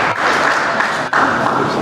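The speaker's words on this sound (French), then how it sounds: "Tonnerre d'applaudissements." Audience applause at the RDC Manager Awards gala evening, a dense, steady wash of many hands clapping that fills the whole stretch, with a brief dip near the middle before it surges back.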